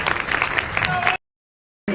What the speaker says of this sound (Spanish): pido un aplauso para Jorgelina Núñez.